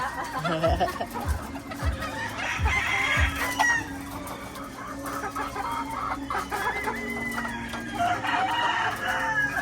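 Hens cluck busily at feeding time in a farm coop, a close, continuous chorus of clucks and squawks with a rooster crowing.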